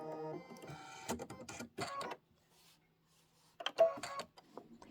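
A Kimberbell embroidery machine stitches in short, rattling bursts, a brief stop-and-start run of only a few stitches separated by near silence.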